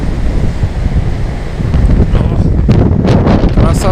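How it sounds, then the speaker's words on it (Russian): Strong wind buffets the microphone on a deserted Anapa beach in November while a stormy Black Sea surf roars steadily close by, loud and continuous throughout. "Вот какие волны красивые."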